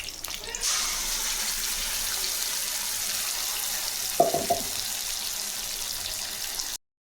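Ground tomato paste sizzling in a pan with curry leaves while cooking Kumbakonam tomato chutney, a steady hissing fry throughout with a brief clink of a utensil partway through.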